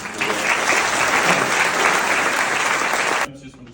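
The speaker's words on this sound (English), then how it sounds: "Let's give a big round of applause" A crowd at a Wānaka community healthcare meeting breaks into loud, dense applause that holds steady for about three seconds, then cuts off abruptly.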